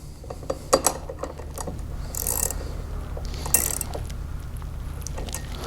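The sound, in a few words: tightening lock nut with 9/16 wrench and Allen key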